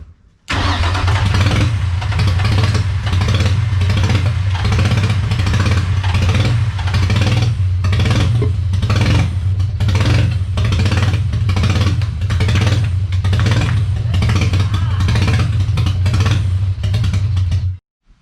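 A rebuilt marketplace car engine runs rough with vacuum leaks, a loud, close, uneven idle with a steady pulsing lope and surging bursts throughout, no voices.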